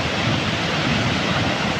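Year-round waterfall in Norway pouring with a steady, broad rushing roar, continuous and fairly close, with no voices over it.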